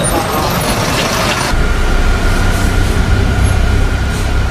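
Train carriage rumbling along the rails on a long journey across China toward Kunming, a steady low mechanical clatter and rattle that grows heavier and fuller partway through, continuous and close with no talk.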